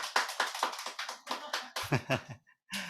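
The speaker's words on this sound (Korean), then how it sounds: "우리 감사와 영광의 박수 올려드리겠습니다" Applause from a church congregation at a Sunday service: a run of rhythmic hand claps, fairly close and moderately loud, tapering off and pausing near the end before a brief resumption.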